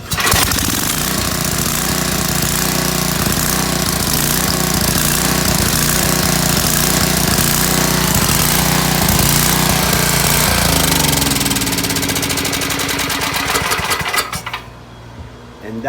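A gasoline generator starting after six years unused with help from starter fluid, then running loud and close with a harsh, steady, rattling engine drone that roughens and dips near the end.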